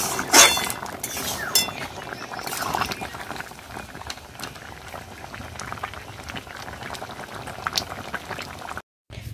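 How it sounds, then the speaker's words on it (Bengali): Tomatoes sizzle and bubble steadily while being stir-fried in a pan for a Bengali shukto meal, with occasional clinks of a utensil against the pan. There is no talking. "এই যে টমেটো এখন কষানো হচ্ছে"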